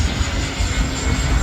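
A steady, loud airplane engine drone rumbles overhead, broad and continuous with no voices.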